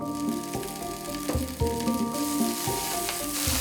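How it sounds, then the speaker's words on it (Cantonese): Onion, chili and coriander stir-fry in a pan over moderate heat, giving a steady close sizzle broken by several clanking stirs of a utensil against the pan, with no talking. "然後就將芫茜呢放埋一齊落去炒"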